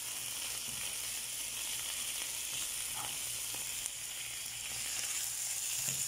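Tomatoes hit a hot pan and give off a soft, continuous sizzle with light crackling, faint and close, with no one talking.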